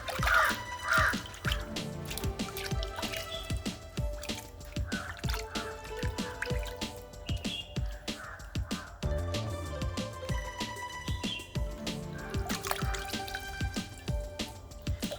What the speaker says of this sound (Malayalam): നമ്മുടെ മോൾഡ് ഒന്ന് വെള്ളത്തിൽ മുക്കിയെടുക്കുക.